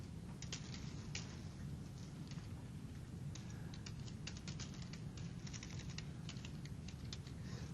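Keys clatter on a computer keyboard in quick, uneven bursts of typing, faint and close, over a steady background hiss with no talking.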